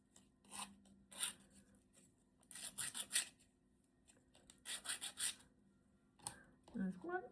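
Repeated short scraping strokes come from a small tool removing burrs from a cut-out part for a flower-room book nook model. The rasping bursts are quiet and close, with brief speech-like sounds near the end.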